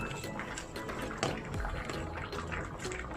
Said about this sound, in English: So I'll be adding water, a little bit water,